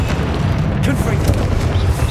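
Confringo spell explosions in Hogwarts Legacy, a dense rumbling boom with continuous low-end blasts and battle noise, loud and close, with voices shouting spell names throughout.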